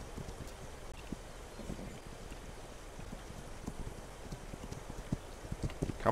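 Hoofbeats of a ridden horse in a video game sound as a steady run of light, close clops over windy, noisy background, growing a little louder toward the end.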